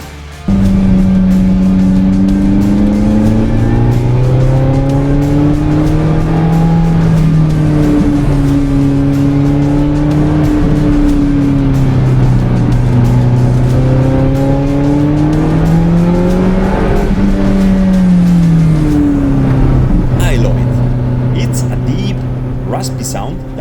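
A Lotus Elise 220 Sport's raspy engine revs up and down in repeated loud sweeps, rising and falling in pitch close by for over twenty seconds before easing off at the end.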